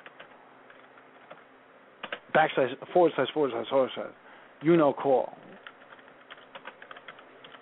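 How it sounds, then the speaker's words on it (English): Typing on a computer keyboard, soft quick key clicks running faintly in the background while someone talks over them in two short stretches. "And Witchy's actually typing this out."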